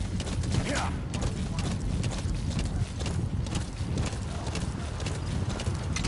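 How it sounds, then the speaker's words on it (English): Steady clip-clop of horse hooves in a video game set in Afghanistan, at a brisk, continuous rhythm, fairly close, with a brief whinny early on and low rumbling underneath. "Don't scare the horse."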